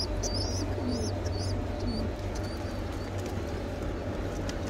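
Homing pigeons coo and chirp in a breeding loft, soft repeated calls over a steady low hum and dense background noise throughout.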